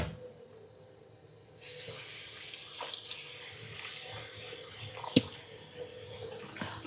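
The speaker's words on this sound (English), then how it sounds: "Wash my hands." Tap water runs steadily into a sink as hands are washed, a constant close hiss and splash with a few small knocks and one sharp clink near the end, no voices.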